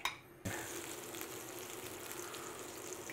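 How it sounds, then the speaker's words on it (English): Halloumi cheese frying in a pan: a steady, close hiss and crackle of sizzling oil starts abruptly after a brief quiet moment and continues evenly, with no voices. "I'm gonna fry up the halloumi!"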